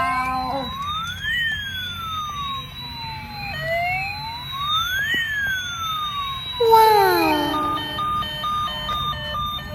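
A toy ambulance with red and blue lights plays its electronic siren: rising and falling wails that repeat, then shift into a faster, busier siren pattern near the end. The sound is close and fairly loud.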